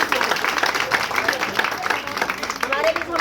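A crowd at a ward-level public gathering applauds to welcome a former mayor, steady clapping that is loud and close throughout, mixed with talk and voices.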